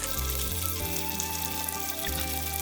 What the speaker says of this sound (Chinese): 油热放入葱花和姜片儿，炒出香味以后关火